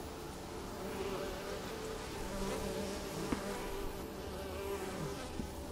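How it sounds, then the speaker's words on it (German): Mosquitoes in the video game The Witcher 3 keep up a steady, dense buzzing drone for the whole stretch, with no talking. "Diese Mücken, die sind ganz schön nervig."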